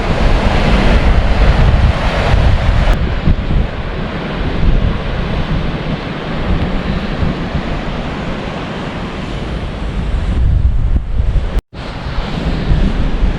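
Strong wind blows steadily across a bridge in a snowy state park after a heavy spring snowstorm, a loud, continuous roar with buffeting gusts battering the microphone throughout.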